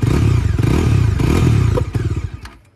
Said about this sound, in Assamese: থ্ৰটেল যদি দিওঁ কেনেকুৱা ধৰণৰ এটা সাউন্ড পাব আপোনালোকক মই শুনাই দিওঁ